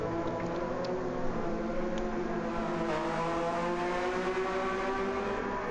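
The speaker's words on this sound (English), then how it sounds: "Love the sound of that Porsche though." A Porsche race car engine drones at Yas Marina during qualifying for a 16-hour race, a steady high-revving tone with shifting harmonics, continuous and fairly close, with no voices.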